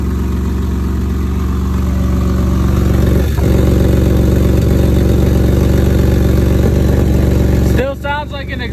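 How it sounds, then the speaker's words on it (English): A Jeep Liberty engine idles steadily with an exhaust leak after muffler and exhaust repair, a low, throbbing rumble and a raspy, ticking exhaust edge, continuous and close, ending with a brief shift in tone. "Still sounds like an exhaust leak"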